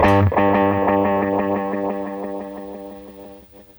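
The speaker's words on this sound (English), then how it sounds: "So this is the sound of a tape delay." An electric guitar chord through a tape delay rings out with a string of shimmering, repeating echoes that smear into a swirling, flanging wash and slowly fade away.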